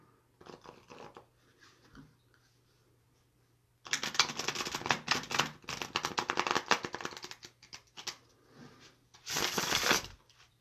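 Tarot cards being shuffled in quick riffling bursts, a short soft one first and then a long loud flurry, with a final brief riffle.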